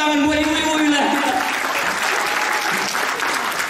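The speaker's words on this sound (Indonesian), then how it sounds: "Sekali lagi tepuk tangan buat ibu-ibu wilayah kita." A crowd applauds the local women at a Christmas solo singing contest, a loud, full burst of clapping that holds steady throughout, with a voice speaking over the opening.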